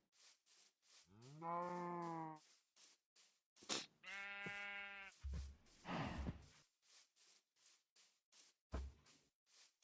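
Cows and bulls moo in the video game Minecraft, two long drawn-out lowing calls a couple of seconds apart amid quieter game noises, fairly close and clear with no talking over them.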